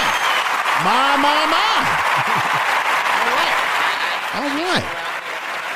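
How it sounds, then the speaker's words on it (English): An audience at a bond hearing event claps steadily in a dense wash of applause that fills the room, while someone speaks loudly over it and the clapping thins out near the end. "let's hit a clap here for the lovely woman"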